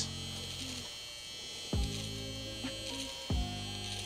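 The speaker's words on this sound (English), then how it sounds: "I gotta hit it with that shaver everywhere." Electric shaver buzzing steadily during a barbershop drop fade haircut, run close and continuous with a few brief clunks and pitch dips as it is pressed and moved against the head.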